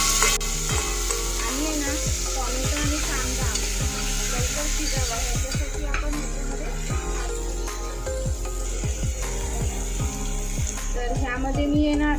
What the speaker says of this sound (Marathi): आता आपण ह्याच्यामध्ये टॉमॅटो टाकून घेऊया